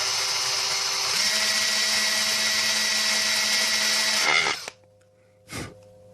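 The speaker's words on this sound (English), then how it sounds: "so just kind of drill your hole" A drill bores a hole into the plastic trigger of a game controller during a Scuf-style adjustable-trigger build. The whine is loud and steady for about four seconds, stops, and then comes back for one short burst.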